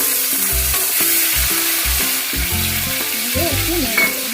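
Cashews and raisins frying in hot ghee in a kadai for pulao, a loud, continuous sizzle and crackle heard up close, with music playing over it.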